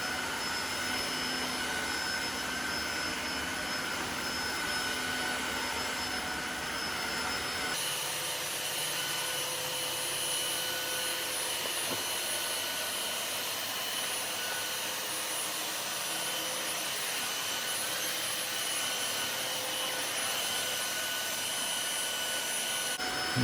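Tineco Floor One S3 wet-dry floor vacuum running continuously and sucking up sand, a steady loud whine and rush that shifts in tone partway through as it picks up the grit, no talk.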